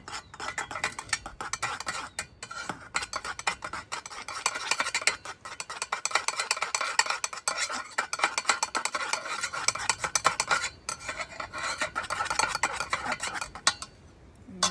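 Washable, edible paint in four colors is mixed by hand, giving a continuous busy scraping and tapping of a utensil against containers that runs for the whole stretch at moderate loudness.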